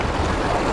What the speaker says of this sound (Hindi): ये रहा जी पानी का शोर, पानी और पानी।